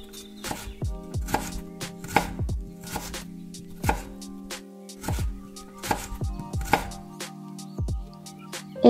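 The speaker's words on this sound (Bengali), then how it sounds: "প্রথমে কিছু বেবিকর্ন নিয়ে এইভাবে পিসেস করে কেটে নেব।" Baby corn cut into pieces with a knife on a board, about a dozen sharp, evenly paced chops that ring briefly, close with low background hum between strokes.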